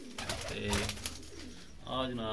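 Pigeons, including golden and Chinese breeds, coo in soft, low rounded calls close by, while someone speaks briefly over them.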